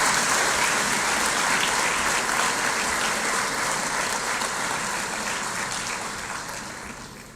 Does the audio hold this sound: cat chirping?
no